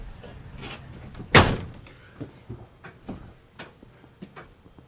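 A sharp, loud knock of metal striking the side panel of a Heritage Glen 272RL travel trailer rings out once, followed by a series of softer clunks and taps at an uneven pace.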